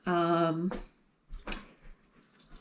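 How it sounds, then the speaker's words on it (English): Pet dogs whimper in a long, high, whining cry nearby, followed by a few short scuffling yips and movement noises from playing dogs in a quiet room. "my dogs were getting a bit too much in the background here"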